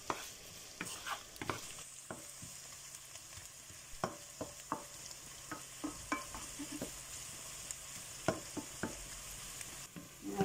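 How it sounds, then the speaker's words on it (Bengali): Onions browning in a frying pan with oil for Bengali biriyani rice, stirred at intervals: soft steady sizzle with scattered scraping clicks of the spoon, moderately close and alone. "পেঁয়াজ দিয়ে ব্রাউন করব, লাল করবো আর কি।"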